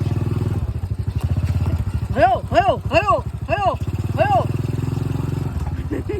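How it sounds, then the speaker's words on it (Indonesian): A motorcycle engine idles with a steady close-up putter while a person speaks over it and a voice calls out briefly. "Jane motor iki penak"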